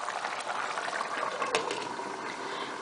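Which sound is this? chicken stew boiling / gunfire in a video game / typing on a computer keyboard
chicken stew boiling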